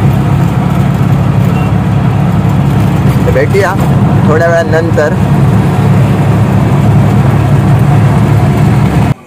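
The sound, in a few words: auto rickshaw engine while driving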